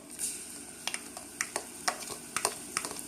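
Minced garlic crackles softly in olive oil over a low flame, faint intermittent popping and spitting in a quiet kitchen with no one talking.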